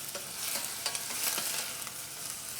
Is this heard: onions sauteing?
yes